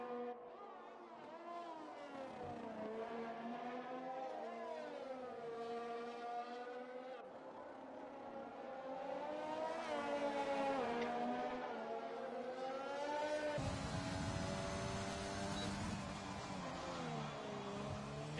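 A Racing Point Formula car lapping the Dutch Grand Prix circuit in an F1 game on PS4, its high engine whine rising and falling through gear changes, steady and fairly close throughout.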